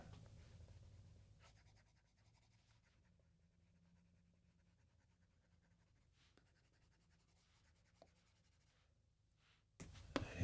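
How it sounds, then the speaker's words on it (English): Pencil drawing on paper while sketching a voodoo doll, with faint, steady scratching strokes close by and quiet throughout. "Pencil tips coming off, so I was missing out some strokes there"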